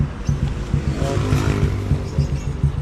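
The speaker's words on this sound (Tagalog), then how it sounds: "pinapainit ko na lang yung makina niya" A motorcycle engine idles while warming up, giving a steady, close low rumble with an even, throbbing rhythm that lasts throughout.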